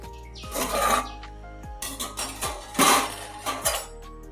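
Boiled peanuts and green gram are drained of their cooking water in a home kitchen, with close metallic clanks of a pot and strainer and a few sloshing, scraping bursts between quieter pauses.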